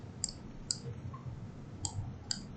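Four crisp mouse clicks in a quiet room while working in Grasshopper, spaced irregularly with short pauses between them, each a sharp dry tick over faint background hiss.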